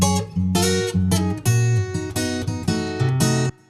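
Acoustic guitar, recorded without EQ, picking a short melodic phrase with a fuller, somewhat boxy tone, steady and close, ending abruptly.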